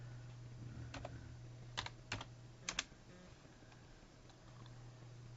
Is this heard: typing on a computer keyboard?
yes